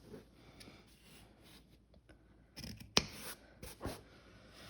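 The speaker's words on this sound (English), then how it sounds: "over here you can trim off those thread tails again, and we can trim off those little triangles that are sticking out off the edges." Scissors snip thread tails and small fabric triangles from a bias-bound armhole seam, giving a few soft, close cuts, with one sharp snip standing out against a quiet room.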